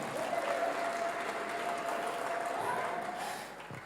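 Church congregation applauding during a sermon, a dense continuous burst of clapping with a faint sustained tone beneath, fading slightly at the end.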